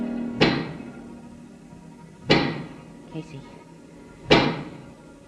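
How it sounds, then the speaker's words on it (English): Three loud, sharp knocks of a giant pick strike at roughly two-second intervals in a radio drama sound effect, each blow ringing out briefly, with a short spoken name between them. "That is the sound of a giant pick."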